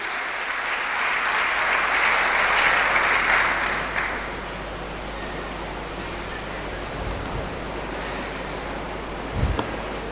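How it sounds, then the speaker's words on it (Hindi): A congregation at a Pentecost church service bursts into loud applause for Jesus Christ, a dense clapping roar for about four seconds before it fades into a quieter room murmur. "यीशु मसीह के लिए जोरदार तालियां।"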